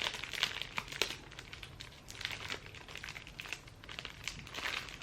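Plastic packaging crinkles and crackles steadily as a wrapped Monstera dubia climbing plant is unwrapped, with close, busy rustling bursts throughout.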